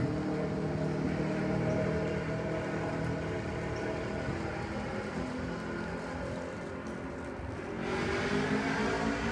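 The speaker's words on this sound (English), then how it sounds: "Always got to have a motorcycle or something revving up their engine when you're trying to do a video, or a car or something." A motorcycle or car engine drones steadily in the distance outdoors at a winter estate, swelling slightly toward the end, with no talking.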